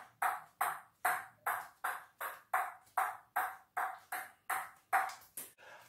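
A table tennis ball bounces repeatedly on a hard surface in a steady rhythm, about two crisp pings per second, close and clear with no talking.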